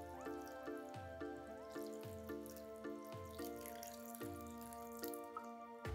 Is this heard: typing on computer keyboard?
no